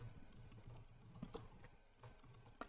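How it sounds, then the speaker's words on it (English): Soft, steady clicking of keys on a computer keyboard, quiet and close, with a few slightly louder taps. "I wonder if you can hear my keyboard as I'm typing."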